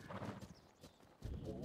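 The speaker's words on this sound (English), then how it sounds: "why am I already hearing horses?" Horse hooves clip-clop in the video game Breath of the Wild, faint and brief, with a soft neigh over a quiet game backdrop and some voice overlapping.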